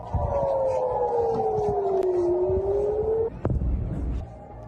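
Air raid siren wailing over Israel during a missile attack, a long steady tone slowly falling in pitch, then cutting off near the end, with a dull thump and faint background noise.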